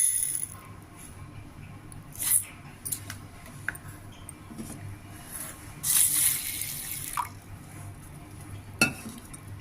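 Quiet swishing of split moong lentils in water with a few sharp clinks against a bowl, close up and unhurried, no talking.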